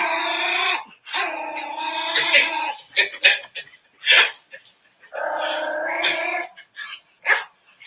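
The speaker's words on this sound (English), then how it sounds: "I love the bark at the end." A 10-week-old puppy barks, yips and growls in a played-back recording, with bursts of high, tonal barking separated by short pauses and a sharper bark near the end.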